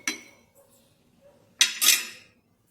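A spoon clinks against a cup while coffee or green tea is stirred with hot water, one quick tap followed by a brighter, rattling burst of stirring, close by and with no voices.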